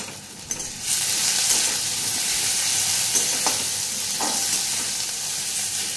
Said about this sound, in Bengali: আর মাঝখান থেকে ছিঁড়ে 3টে লঙ্কা দিয়ে দিলাম। এই হচ্ছে এটা ফোড়ন।